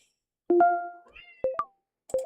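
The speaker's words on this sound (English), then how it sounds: "It's my cat meow." A cat gives a drawn-out meow followed by a couple of short, clipped meows, close and fairly loud against a quiet room.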